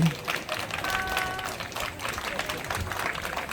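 Guests at a traditional Korean wedding ceremony give scattered, moderate applause, a steady patter of claps mixed with background crowd noise.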